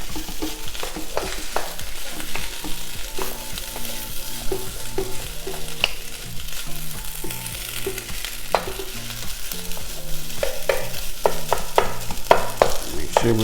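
Shrimp fried rice, made with leftover jasmine rice, being stirred and broken up in a hot pan: a steady sizzle with repeated scraping and clacking strokes of the utensil throughout, close and fairly loud, no talking.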